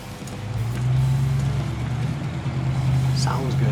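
A 1967 Ford Mustang engine idles steadily after the manual choke is pushed in, a low, even hum close by with a faint background hiss and no clear speech.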